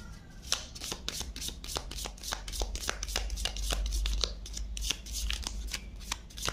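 Tarot cards are shuffled by hand in a steady run of quick, crisp riffling slaps, dozens of sharp card strikes close and fairly loud over a low background hum, with no talking.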